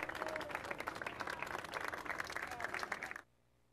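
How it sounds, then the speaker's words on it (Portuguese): Supporters of the Santos club lining streets near a cemetery applaud a funeral procession's arrival, a dense burst of clapping with some crowd voices that cuts off abruptly after about three seconds. "santistas também aguardavam a chegada e receberam com muitos aplausos"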